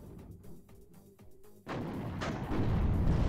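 An artillery volley in the wargame WARNO: a series of dull thumps, then a sudden loud rumbling barrage that builds into sustained, heavy booming, close and dense.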